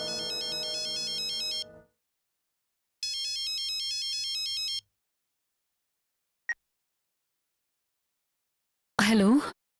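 A mobile phone ringtone rings unanswered in a Tamil TV drama scene. It plays as two loud melodic bursts with a silent pause between them, then stops, followed by a brief click and a short burst of voice.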